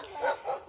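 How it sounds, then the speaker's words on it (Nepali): A Japanese dog in a park in Chiba gives two short barks close by, the second slightly softer than the first, with no talking. "जापानिज कुकुर पनि नेपालीमै भुक्छ"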